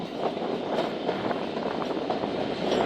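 The Thal Express passenger train rolls along the railway line near the Indus River, a continuous close rumble of wheels and carriages with faint rhythmic clatter, steady and loud throughout.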